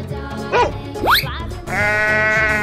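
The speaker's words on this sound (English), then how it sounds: "Sheep." Sheep bleat several times, loud and close: two short wavering calls followed by a longer, sustained bleat, set against a light music bed as part of an animal sound guessing game.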